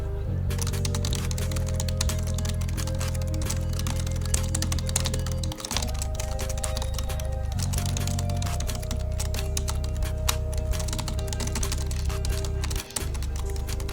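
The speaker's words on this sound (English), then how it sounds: "the keyboard is a lot less loud" A computer keyboard clatters in a rapid, continuous stream of fast key presses during a typing speed race, with a steady low hum beneath and brief pauses around the middle and near the end.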